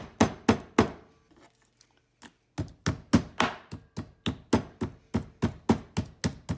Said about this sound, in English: makes the pork tenderize, or you can pound it like this